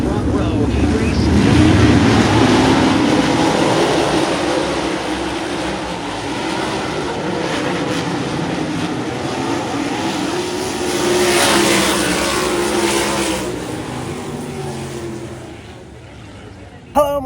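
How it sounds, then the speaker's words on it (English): Naturally aspirated 900-horsepower alcohol-fuelled V8 sprint cars race on a Kentucky dirt track, their engines a loud, continuous roar that swells and fades as the pack passes, with a brief sharp burst at the end. "900 horsepower naturally aspirated V8s, 100 miles an hour, sideways in the dirt."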